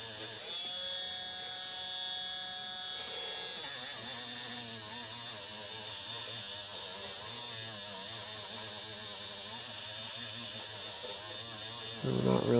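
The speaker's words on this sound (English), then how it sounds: "It's literally the weight of the Dremel tool itself." A Dremel rotary tool runs steadily on an Ibanez Gio guitar, giving a continuous high whine with a shifting buzz that holds throughout and swells briefly near the end, resting only on its own weight against the surface.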